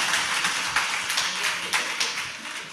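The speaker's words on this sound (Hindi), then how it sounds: "ये तो बार बार तालियां बजाते हैं" Audience applause during a Jain religious discourse by Acharya Vidya Sagar Ji, a steady wash of many hands clapping at moderate distance with a few sharper claps standing out, no talk over it.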